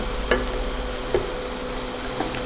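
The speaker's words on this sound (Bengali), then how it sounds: "পেঁয়াজ, আদা, রসুনটা কষানো হচ্ছিল" Onion, ginger and garlic sizzle steadily in a pan while being sautéed for a tomato fish curry, with a few soft stirring scrapes breaking the continuous frying hiss.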